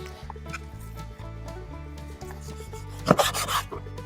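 Meat with a small bone is chopped on a board, a series of close, dull rhythmic knocks, with one sharper, louder chop near the end.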